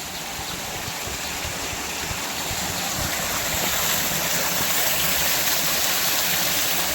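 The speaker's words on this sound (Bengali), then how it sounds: "এই যে জলটা বয়ে যাচ্ছে দেখুন এই যে শব্দটা আপনারা কতটুকু অনুভব করছেন" Water runs continuously in a natural, quiet outdoor setting, a steady broadband rush that stays even and unbroken from start to finish, with no voices.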